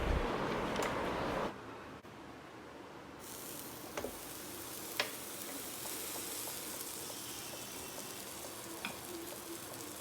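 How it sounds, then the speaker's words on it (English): A sandwich sizzles and crackles steadily in a Wonderchef electric sandwich maker, close and fairly quiet, after a brief louder rush at the start, with a few small clicks and pops. "Now we can start grilling our sandwich."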